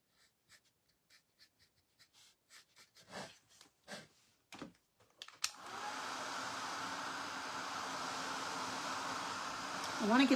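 A hair dryer blows to dry paint on a snowman tissue box, switching on partway through after some quiet scratchy handling noises and running as a steady, close whoosh to the end.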